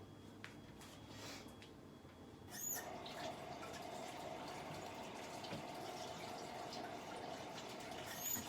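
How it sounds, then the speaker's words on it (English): Tap water runs steadily into a sink during handwashing, a continuous close splashing rush with a slight surge partway through. "gotta wash my hands."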